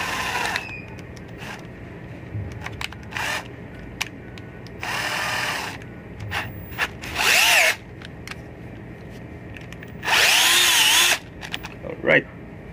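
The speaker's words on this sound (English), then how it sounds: "on this part using this drill bit" A power drill boring into luggage whirs in several loud bursts of a second or so each, with bit-grinding noise and quieter handling clatter between them.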